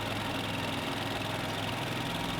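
Kansas State pulling tractor at a 2021 ASABE quarter-scale tractor pull spooling up, a steady loud droning engine roar holding throughout with no pauses.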